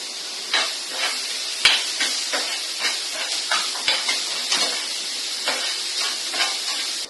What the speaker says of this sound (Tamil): அந்த கார்லிக்கும் ஆனியனும் சேர்ந்து வதக்கும் போது நல்லா ஃபிளேவர் வருது